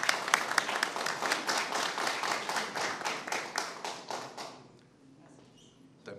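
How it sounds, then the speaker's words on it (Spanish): An audience applauds at a Peruvian volunteer firefighters' day ceremony, with dense, lively clapping for about four seconds that then fades away. "Un aplauso, por favor."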